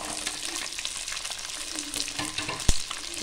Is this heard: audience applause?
no